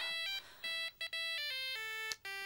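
A telephone rings in a Turkish drama scene, an electronic ringtone of stepped, tonal notes cycling quickly and repeating at moderate volume with no talk.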